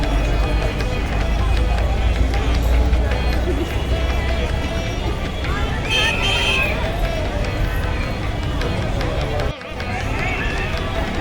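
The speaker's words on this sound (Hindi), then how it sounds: "हर जगह इंसानों की भीड़।" A dense crowd hubbub fills Lulu Mall in Lucknow, continuous and loud, with overlapping voices, footsteps and general bustle throughout.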